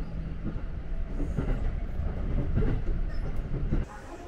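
Local train running on a conventional line, a steady close rumble of wheels on track with faint rhythmic clatter, continuous and moderately loud before dropping slightly at the end.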